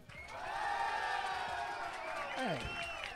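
Crowd applause and cheering for a DJ at a DJ battle final, a dense sustained roar of clapping and voices with whistles and shouts, steady throughout and rising briefly near the end.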